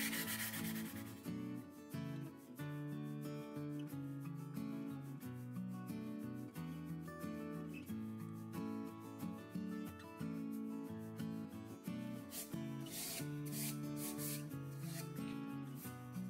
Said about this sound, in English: go ahead and sand it down some more so that you get rid of that